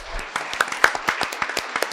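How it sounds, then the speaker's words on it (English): Scattered applause from an audience at a U.S. Mint quarter celebration event, a brief patter of separate claps at moderate distance. "Let's give Anna another round of applause."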